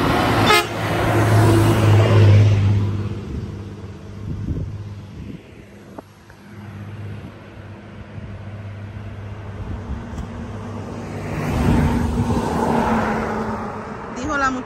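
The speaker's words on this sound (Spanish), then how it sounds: "Vean, pasan bien pelados los carros aquí." Cars speed past on the Los Naranjos highway in Sonsonate, with loud car horns tooting at the start and again near the end, wind buffeting the microphone and a whooshing pass-by swelling and fading between them, alongside faint voices.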